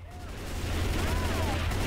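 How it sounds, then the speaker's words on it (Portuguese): Rapid gunfire from survivors shooting zombies in Left 4 Dead 2, a dense continuous volley of shots over a low droning background, steady and fairly loud, with faint voices mixed in. "Fuzilando todo mundo"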